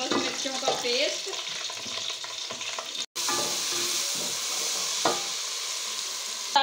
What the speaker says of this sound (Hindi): अब हम डालेंगे इसमें लहसुन और सबस मिर्चों का पेस्ट।